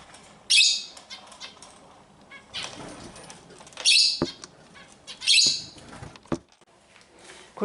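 Pet finches and lovebirds kept in an Arizona aviary chirp and squawk in sharp, loud, intermittent bursts spaced a second or two apart, close by, over quiet room noise.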